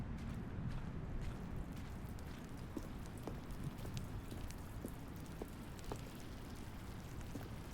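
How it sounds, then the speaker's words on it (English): Steady rain in The Stanley Parable video game, a constant soft patter with scattered individual drops ticking through it, faint and even throughout. "Oh, it's raining."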